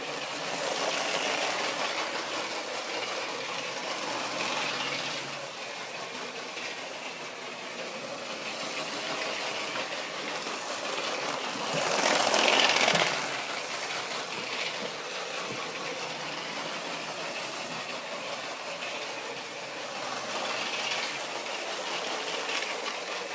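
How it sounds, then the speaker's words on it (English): A small motorized Ferris wheel turns on a toy city train layout, giving a steady, faint mechanical whir that swells briefly midway before settling back into an even hum. "The Ferris wheel does have a motor, and we'll turn it on in a moment."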